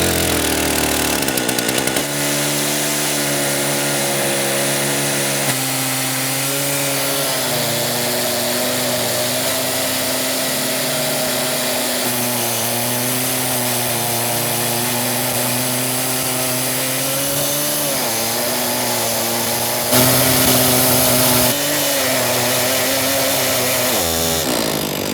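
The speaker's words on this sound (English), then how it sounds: "how they cut a tree in half using a jig with 2 chainsaws" Two chainsaws joined on a single long bar jig roar steadily through a tree trunk, splitting it lengthwise in one continuous loud cut with small shifts in pitch under load and a brief surge near the end.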